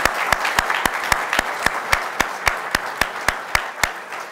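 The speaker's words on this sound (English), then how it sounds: "We have one round of applause again for everybody that was on it tonight." Applause from the audience at a university Wall of Fame induction ceremony, a steady round of clapping from a moderate crowd with sharp individual claps standing out, moderately loud and with no talk over it.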